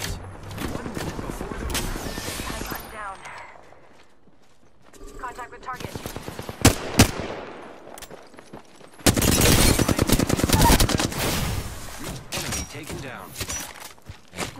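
Apex Legends gunfire crackles in rapid bursts and single loud shots, with a sharper, denser volley in the later half, under game voice lines.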